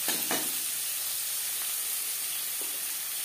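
Chopped onions fry in a pan, giving a steady close sizzle with a few faint stirring clicks at the start.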